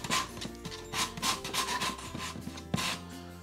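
A cut piece of wood is sanded smooth by hand: close, repeated rasping rubbing strokes in a quick, fairly regular back-and-forth rhythm, with no voices.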